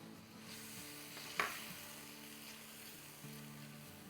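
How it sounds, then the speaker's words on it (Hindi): Three or four green chilies, each cut in two, sizzle in hot oil for vegetable pulao, a steady soft frying hiss broken by one sharp clack of a stirring spoon. "चले इसमें अब हम 3-4 हरी मिर्चें डाल देते हैं, जिनको हमने 2-2 टुकड़ों में काटा हुआ है"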